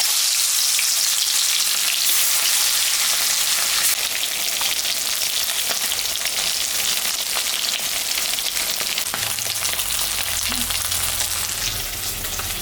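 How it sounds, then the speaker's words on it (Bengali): Rohu fish sizzles in hot mustard oil in a pan, a dense, steady crackling hiss that continues throughout at moderate loudness, with a few sharper pops and no talking. "তেল গরম হয়ে গেছে, মাছটা এখন আমি ভাজবো।"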